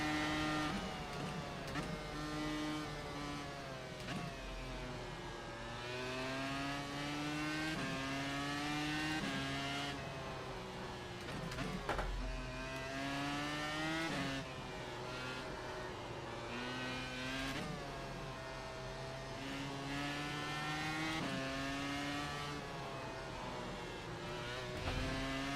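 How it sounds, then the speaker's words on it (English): Race car engine in the iRacing sim game at Suzuka, a continuous loud high-revving drone that climbs and drops through repeated gear shifts and braking zones, with no talking. "Probably do need to bring the engine sound up a bit."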